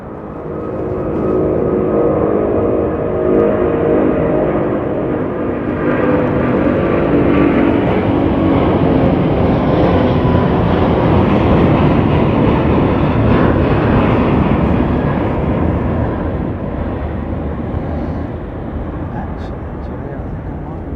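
A fixed-wing aircraft departs London Heathrow Airport with a loud, steady jet engine roar that swells and holds for about twenty seconds. A voice talks over it.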